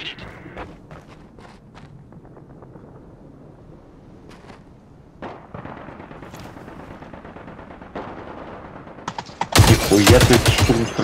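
Gunfire in the online shooter Caliber: scattered sharp shots and footstep-like clicks under steady wind noise build toward a loud, dense burst of rapid automatic fire near the end.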